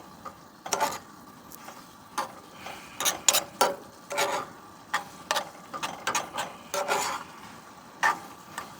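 Burger meat cooking in a pan at a campsite, stirred with a utensil that makes irregular scraping and clicking strokes, close by and with no one talking.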